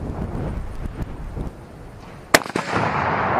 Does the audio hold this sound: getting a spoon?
no